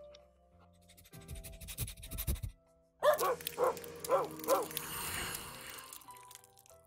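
A dog in the video game Alchemist: The Potion Monger barks in a quick series of four or five clear yaps, preceded by softer game sounds and followed by a lingering ambient wash.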